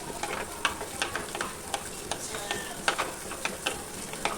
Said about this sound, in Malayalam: അതിലേക്ക് ചൂടായ എണ്ണയിലേക്ക് ഇഞ്ചി, വെളുത്തുള്ളി ഇടുക. നന്നായിട്ട് വഴറ്റുക.